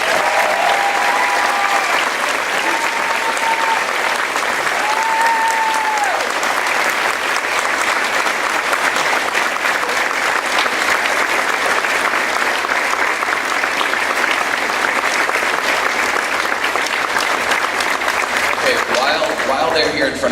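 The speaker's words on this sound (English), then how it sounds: "Let's give them a round of applause." An audience at a high school band's spring concert applauds the graduating seniors, with loud, steady clapping that lasts about twenty seconds and a few whistles or shouts near the start.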